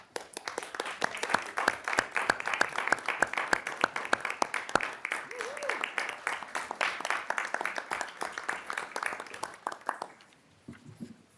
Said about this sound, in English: Please stand up so we can give you a nice round of applause